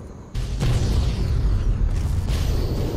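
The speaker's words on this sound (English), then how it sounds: "an explosion like that should knock your ass over" A house explodes in the video game Fallout 3 with a sudden loud boom, followed by a sustained roaring rumble of debris and a second burst near the end, heard with no talk.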